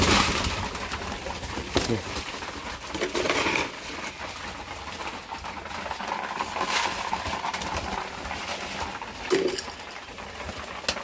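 Soft pigeon cooing with low throaty murmurs amid a busy, rustling background of flapping and shuffling, no talking.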